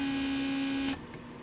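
Vacuum pump for the door locks of a Mercedes 300SD runs with a steady electric whine and hum for about a second, then cuts off abruptly, leaving quiet room tone.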